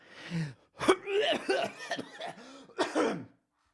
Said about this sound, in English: I'll leave that cough in there.